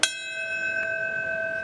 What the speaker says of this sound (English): Bells tolling 6 times for the 6 pivotal moments of the attack